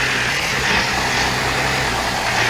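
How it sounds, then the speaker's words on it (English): A small, fat old tractor idles in a trucking video game with a continuous low, rough rumble at steady loudness and no talking over it. "This small little fat old tractor."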